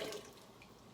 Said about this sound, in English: all the water comes out